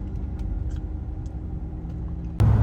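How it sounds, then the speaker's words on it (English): A car cruising on the highway at about 70 mph gives a loud, steady road-and-engine rumble throughout, with a sudden louder burst near the end; no one speaks. "All right, so I'm cruising at like 70 right now, type shit. Pretty quiet."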